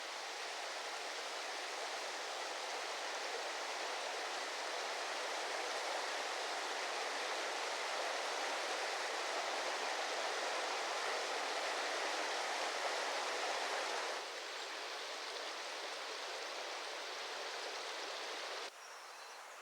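A river rushes through Box Canyon, a narrow rock gorge at Mount Rainier, a dense, steady roar of flowing water that stays constant for the whole stretch with only slight dips in level near the end.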